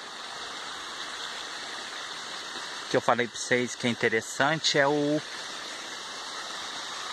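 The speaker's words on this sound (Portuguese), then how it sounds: "Desce água aqui lá da montanha." Stream of water running down from the mountain past coffee plants on a rainy, dark evening, heard as a steady, soft rushing wash throughout, with someone talking briefly over it in the middle.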